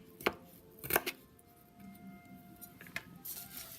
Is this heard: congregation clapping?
no